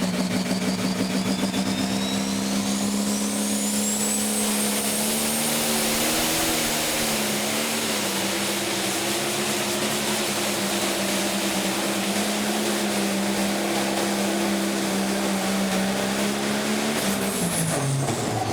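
A pro stock pulling tractor roars under heavy load at a 2019 pro pulling event in Ellsworth. The loud, sustained engine drone holds steady and dips in pitch near the end, with no talk over it.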